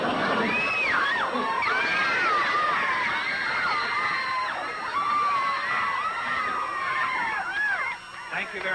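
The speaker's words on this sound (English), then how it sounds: "How can you tell with all that screaming?" A crowd of fans at a go-go style music event screams continuously, shrill overlapping cries at moderate distance filling the whole stretch without pause.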